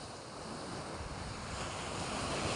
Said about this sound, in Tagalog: Napakaganda talagang dagat.